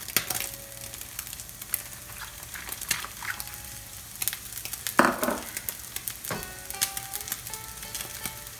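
Minced spring onion fries in oil in a pan for simple fried rice, a soft, faint sizzle with occasional clinks and stirring clatters close by.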